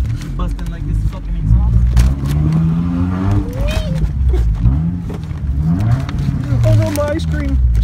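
Car exhaust revving loudly up close, a low rumbling engine note rising and falling with roaring bursts, while people talk over it.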